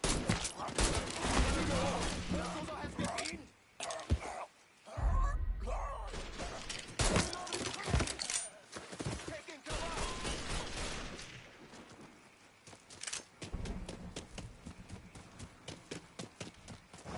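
Gunfire in Mafia 3, bursts of shots scattered among shouting voices and action noise, loud and irregular with brief pauses between volleys.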